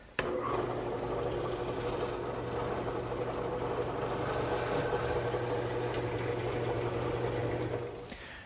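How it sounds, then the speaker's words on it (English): A drill press with a mortising attachment cutting wood: a steady motor hum with grinding, chattering cutting noise runs continuously for several seconds, then winds down at the end. "I'll use my drill press with the mortising attachment"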